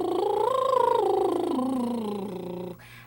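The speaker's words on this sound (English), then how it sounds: "The sounds that we usually do first off when I come in are brrr" A singer does a brrr lip trill vocal warm-up, a buzzing, fluttering voiced tone that glides up and down a scale, close and sustained, before cutting off abruptly near the end.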